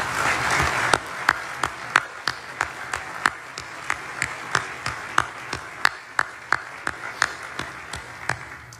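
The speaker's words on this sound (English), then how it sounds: "So how about a round of applause for the Guard?" At a swearing-in ceremony, an audience applauds the National Guard with sustained, full applause, and sharp, close individual claps ring out steadily above the crowd for nearly nine seconds.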